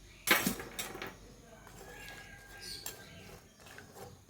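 A metal lid clinks down onto a cooking pot of spinach stems with salt and a pinch of turmeric, one sharp close clatter followed by a few softer kitchen knocks.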